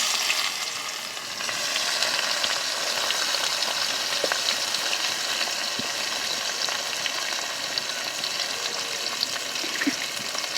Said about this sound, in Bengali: আর দিচ্ছি পেঁয়াজ কুচি